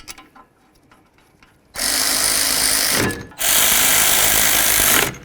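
A power tool spins caliper bracket bolts home during a wheel hub and bearing job on a 2006-10 Dodge Charger, in two loud, steady whirring runs separated by a brief pause, with faint clatter beforehand.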